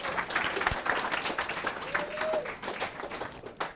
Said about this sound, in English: So give Professor Weissman a round of applause